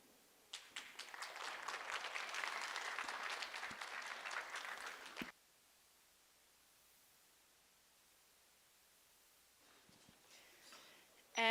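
Students at a college agricultural business presentation evening get a round of applause from the audience. It is dense, steady clapping lasting about five seconds and then cutting off, followed by near-silence and a faint rustle at the end.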